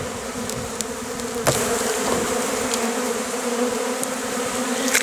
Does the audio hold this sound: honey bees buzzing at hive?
yes